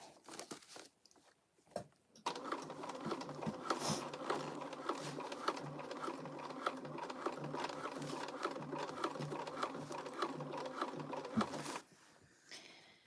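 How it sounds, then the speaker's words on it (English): A domestic sewing machine runs steadily for about ten seconds, stitching thick crossbody bag material, starting abruptly after a few soft handling noises and stopping just as suddenly, with no talking over it. "This is a feat sewing this on a domestic machine with this stuff, with this material"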